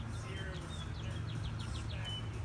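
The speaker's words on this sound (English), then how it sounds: "we found a bird's nest with baby chicks by the pool house" Baby bird chicks in a nest beside a pool house give soft, high, repeated chirps in short clusters, faint against a steady low background hum.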